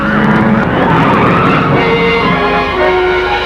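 Speed car racing with a crash, the engine roaring loud and continuous as tyres screech and skid, a dense, harsh wash of motor noise with no voices.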